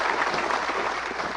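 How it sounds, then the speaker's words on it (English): Audience at the opening ceremony of the NTC conference breaks into steady, dense applause, many hands clapping continuously and filling the hall at even strength throughout. "I want you to give them a resounding round of applause"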